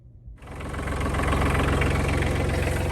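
A heavy tractor engine rumbles up and settles into a steady, loud idle with a rhythmic diesel knock, close by, outdoors in snow.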